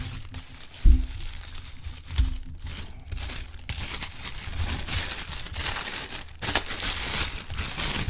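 Packaging of a Self Love tarot deck crinkling and tearing open, with two sharp cracks near the start followed by steady close rustling and crumpling of wrapper material throughout.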